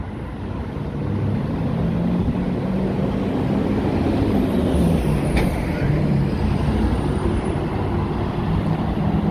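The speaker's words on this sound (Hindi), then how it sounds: "जैसा कि आप देख सकते हैं यहाँ काफ़ी ज़्यादा रश है, ट्रैफिक बनी हुई है काफ़ी ज़्यादा।" Heavy traffic on a busy main road during a lockdown, a constant loud roar of cars, buses and trucks with one brief sharp hiss partway through, no voices.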